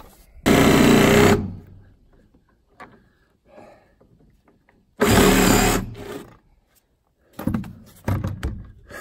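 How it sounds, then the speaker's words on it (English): A dull saw blade cuts through nailed wood in two loud, harsh bursts of about one and four seconds, separated by quieter handling noises, with a shorter burst of rough cutting near the end. "That is one dull saw blade."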